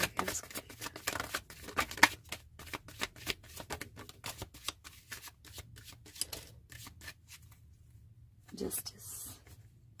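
Cards being shuffled by hand during a tarot reading, a quick run of crisp riffling flicks that thin out, then a short final burst near the end, faint and close.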